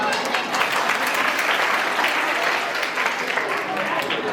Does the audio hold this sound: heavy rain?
no